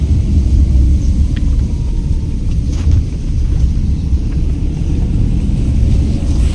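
Steady low rumble of a four-wheeler car on the move, heard from inside the cabin, with continuous road and engine noise and no talking.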